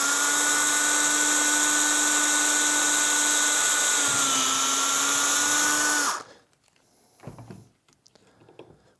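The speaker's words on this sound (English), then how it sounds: "Now in this case, we'll want to drill all the way through the piece of pipe." A power drill bores straight through a piece of PVC pipe with a loud, steady whine for about six seconds, its pitch dipping briefly midway, then cuts off abruptly, leaving only faint handling noises.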